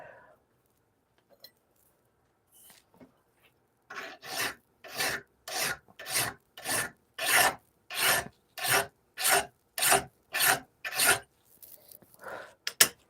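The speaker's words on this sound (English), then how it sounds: "And while I'm filing, I'll be using the wire brush to clean it out here and there." A hand file rasps along a hand-forged Bowie knife blade in a slow, even rhythm of about a dozen loud strokes, each a gritty scrape with a brief pause between, after a few quiet shop clinks.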